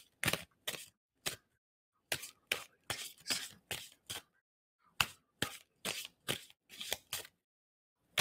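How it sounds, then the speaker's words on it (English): Tarot cards are shuffled in crisp, sharp riffles, about twenty distinct bursts grouped in quick runs with short pauses between, close and clear against near silence with no talk. "And I'm going to stop shuffling."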